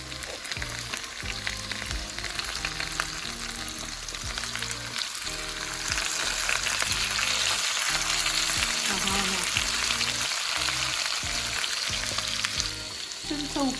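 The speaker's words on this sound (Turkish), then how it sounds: "Şu an baharatlı kısım yağ ile temas ediyor. O da güzelce kızarsın." Onions fry in oil with their spiced side down, giving a loud, dense, continuous sizzle with crackling and occasional stirring noise, close up and with no voices.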